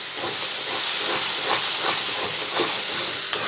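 Spices with cardamom fry in hot oil in a home kitchen, giving off a loud, continuous hiss and sizzle with faint crackles and no pauses.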